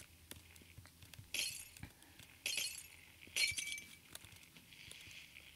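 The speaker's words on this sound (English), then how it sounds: "Glass isn't that hard to break, especially when you're on a bike and trying to break glass." Glass breaking in the Happy Wheels video game as a bike rider crashes through it: three short bursts of tinkling, shattering glass over a quiet background with faint taps.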